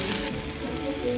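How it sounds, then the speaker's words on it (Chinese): Steak sizzling in hot oil on a served plate, a steady dense crackle and hiss that holds at an even level throughout. "牛排拿过来了，滋滋的冒油啊"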